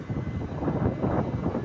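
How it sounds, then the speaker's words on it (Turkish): Strong wind buffets the microphone beside a truck at a container yard, a loud, steady rush of low roaring noise that fills the short stretch with no voice heard. "Şu an çok aşırı bir rüzgar var."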